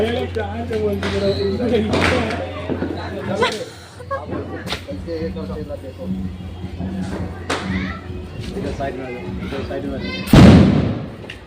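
A Diwali firecracker bomb goes off with a single loud, close bang near the end, after a stretch of excited children talking and shouting nearby.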